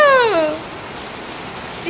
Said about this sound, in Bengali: কি বৃষ্টি মাম্মা কি বৃষ্টি গো